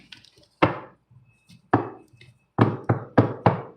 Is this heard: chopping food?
yes